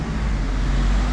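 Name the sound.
busy main road traffic with cars and scooters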